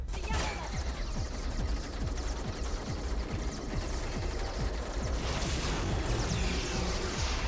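Dense, rapid gunfire crackles continuously in the shooter game Lifeline, with a fast stream of overlapping shots under steady loud noise.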